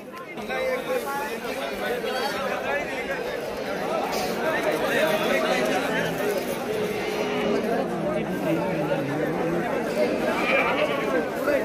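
Goat kids bleat repeatedly at a busy livestock market in Shirur taluka, Pune district, Maharashtra, their cries rising over steady crowd chatter and people talking nearby.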